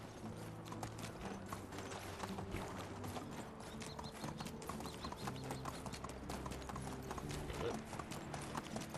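Horse hooves clip-clop steadily through a stretch of Medieval Dynasty gameplay, a rapid continuous rhythm of riding at moderate level under ambient game sound, with no talk.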